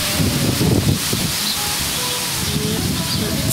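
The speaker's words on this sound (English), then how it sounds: "It's a windy one." Wind blows steadily outdoors, buffeting the microphone with a loud, continuous rushing roar and low rumble, along with faint rustling.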